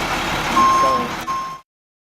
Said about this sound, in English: They trying to move this truck, and all my stuff is in the truck.